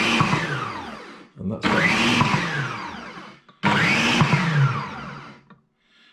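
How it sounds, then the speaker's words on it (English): A Ninja food processor whirs loudly on its chop function in two sustained bursts of roughly two seconds each, with a short gap and a brief pulse between them. Someone speaks briefly at the end. "So I'll press the chop function."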